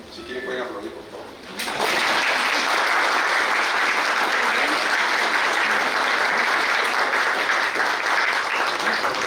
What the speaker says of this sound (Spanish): Si quieren pueden aplaudir, por favor.